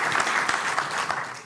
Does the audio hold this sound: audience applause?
yes